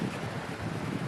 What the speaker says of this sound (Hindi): अरे पानी का शोर